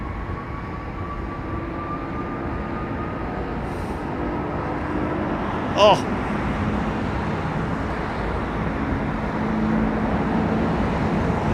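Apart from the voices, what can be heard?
Sri Lankan Airbus A330 jet with Rolls-Royce Trent 700 engines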